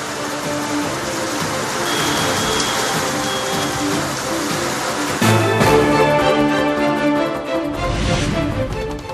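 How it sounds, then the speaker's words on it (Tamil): Summer rain falls steadily in Vellore, a dense hiss of drops striking surfaces, with a vehicle passing partway through and the downpour swelling louder near the end. "வேலூர் மற்றும் சுற்றுவட்டார பகுதிகளில் கோடை மழை."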